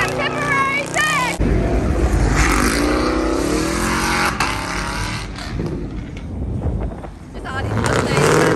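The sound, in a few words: Mustang cars revving at a car meet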